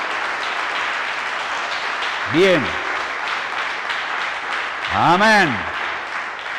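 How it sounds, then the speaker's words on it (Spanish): Church congregation applauding hard and continuously during a sermon, with a couple of short shouted voices rising over the clapping. "Démenle un aplauso a Dios, durísimo, que le duelan las manos"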